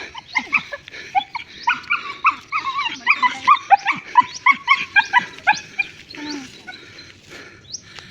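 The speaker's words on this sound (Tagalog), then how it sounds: "Yung mga aso." Several dogs bark and yip in quick, uneven bursts at moderate distance on the Island Garden City of Samal, Philippines, a busy chorus lasting several seconds.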